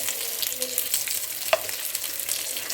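Fish pieces fry in hot oil with a close, steady bubbling sizzle and a few brief crackling pops, all in one short stretch with no voices.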